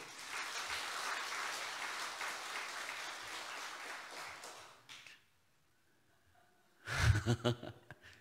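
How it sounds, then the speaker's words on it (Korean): A church congregation applauding steadily for several seconds during a Wednesday service, then a pause and a brief burst of noise near the end. "한번 박수 한번 쳐주세요"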